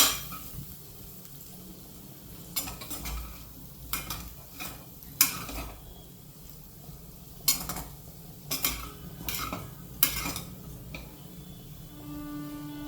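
A spoon scrapes and clinks against a pan while spiced potato fry with cumin and chili powder is stirred, sharp metallic knocks over a soft, low sizzle, close by and without talk.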